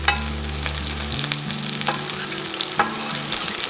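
Filet mignon searing in a cast iron skillet with melting butter, garlic and fresh rosemary, a loud steady close sizzle with occasional sharper pops and stirring, a low hum underneath, no voices.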